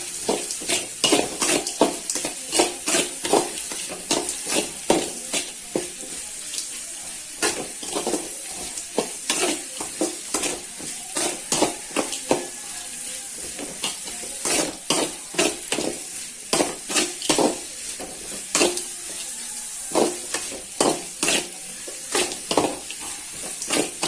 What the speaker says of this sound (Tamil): அப்போ தான் நம்ம ஆனியன் நல்லா வதங்குவோம்